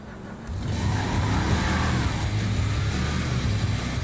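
A Hellfire Gauntlet car in GTA Online starts driving, its engine rising into a steady, loud hum of motor and road noise that holds without a break.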